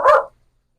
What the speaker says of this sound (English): Y'all hear my dogs?